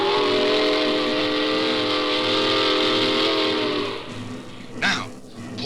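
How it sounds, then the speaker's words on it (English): A loud steam train whistle blows steadily for about four seconds, then cuts off, leaving rumbling noise and a brief hiss. "Sound the whistle to clear the track."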